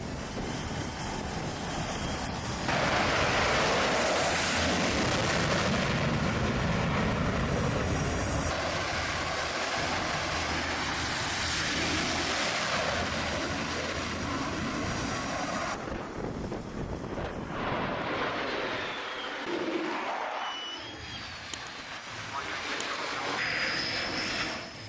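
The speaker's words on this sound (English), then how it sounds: "Within seconds, a fighter is launched back into the sky." A fighter jet launches from the flight deck of the aircraft carrier USS Gerald R. Ford, a loud, sustained jet-engine roar that surges and fills the whole clip, then fades toward the end.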